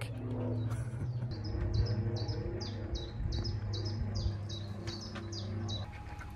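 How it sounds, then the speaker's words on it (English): Birds sing nearby in a rapid series of high, repeated chirps over a low steady electric narrowboat hum, with a dog's faint panting underneath on the deck. "Just hear the birds and Dexter panting on the deck."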